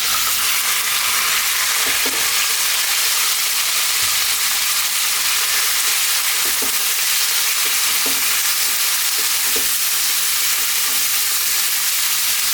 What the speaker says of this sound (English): what I want to do is fry this beef around, give it a little head start and just get a bit of colour onto it